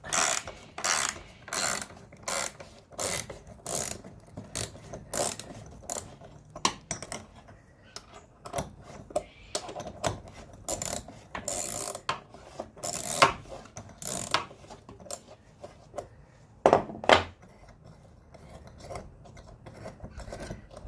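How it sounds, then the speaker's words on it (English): A 13mm spanner ratchets on a bolt during a van-to-camper conversion: rapid, close bursts of metallic clicking in repeated strokes with short pauses, fairly loud and with no talk. "using a 13mm spanner."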